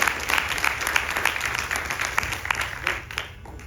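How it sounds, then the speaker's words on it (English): A renewed round of audience applause for Panaji at a Sri Ganesh Chaturthi festival night, sustained crowd clapping that thins out toward the end. "Please give her another round of applause."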